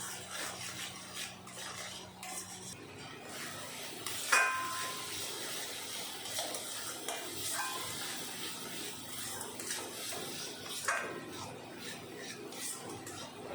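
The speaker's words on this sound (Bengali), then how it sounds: "এখন সব কিছু মিশিয়ে ভালো করে কষিয়ে নেব।" Spices with turmeric and salt being stirred in a pan for a Bengali fish curry with maan kochu: soft, continuous scraping and clinking of a spoon against the pan, quiet and steady, with a brief hum early on.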